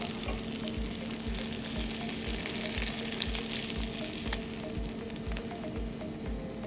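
Glazed salmon sizzles steadily in a hot skillet, a dense, continuous frying crackle with faint clinks of utensils and no talking.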